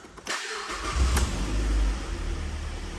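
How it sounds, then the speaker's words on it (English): A Mazda MX-5 25th Anniversary Edition roadster starts up close by: a brief starter crank, then the engine catches and settles into a steady, loud idle with a deep low rumble. "Let's start the engine up."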